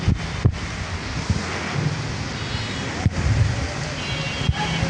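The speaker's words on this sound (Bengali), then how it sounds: "তার বাতাসেরও একটা শব্দ শোনা যাচ্ছে।" Wind blowing during a heavy rainstorm in Dhaka, a loud continuous rush with gusty buffeting against the microphone and a few low thumps, with rain noise underneath.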